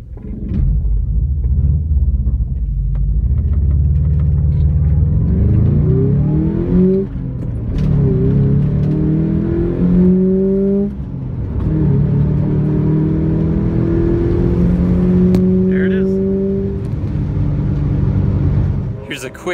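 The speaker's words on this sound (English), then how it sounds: "Let's do a 0 to 60 run and see how we do here." A 1973 VW bus fitted with a 2001 Subaru 2.5 RS engine and Subaru five-speed gearbox pulls hard from a standstill toward 60, its engine note climbing through several gears with brief dips at each shift, loud and close.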